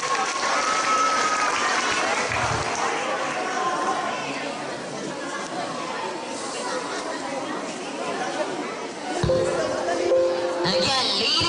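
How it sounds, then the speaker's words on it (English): Applause and crowd chatter fill a school pageant hall, a steady wash of clapping mixed with murmuring voices, followed near the end by a brief louder burst of sound. "A round of applause for them."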